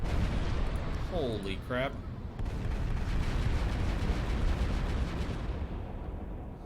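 A massive weapons barrage from an EMP-type ship weapon in the space strategy game Final Theory, a loud sustained roaring rumble of blasts, with a man briefly exclaiming early on.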